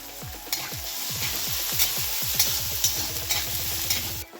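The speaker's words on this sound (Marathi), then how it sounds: "टोमॅटो देखील आपल्याला मऊ पडेपर्यंत असा परतून घ्यायचा आहे कांद्यामध्ये" Tomato and onion sauté in a hot pan with a steady sizzle, while a spoon stirs and scrapes repeatedly in quick, rhythmic strokes at close range.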